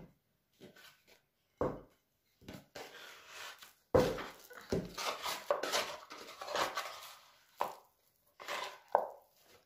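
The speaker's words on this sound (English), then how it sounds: "let us knead the wet flour" Sticky wet flour dough being kneaded by hand, heard as irregular close slaps, presses and squelches in uneven bursts with short pauses between them.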